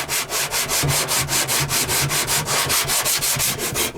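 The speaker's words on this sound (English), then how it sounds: "This is just 36 grit. And all I'm doing is stripping down" Close, loud abrasive rasp of 36-grit sandpaper stripping paint and primer down to bare metal on a 2009 Chevrolet Silverado, in quick regular back-and-forth strokes with no talking.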